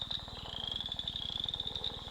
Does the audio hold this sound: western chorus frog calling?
yes